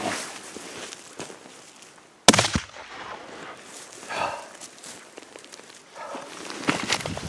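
A single sharp, loud rifle crack rings out during an Alaskan grizzly bear hunt, followed by quieter rustling and movement.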